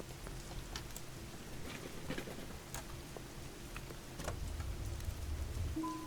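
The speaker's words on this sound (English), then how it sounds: "Just love this rain sound." Steady light rain patters throughout in the video game Schedule I, a soft continuous hiss with scattered drip ticks, growing slightly fuller near the end beneath low background game ambience.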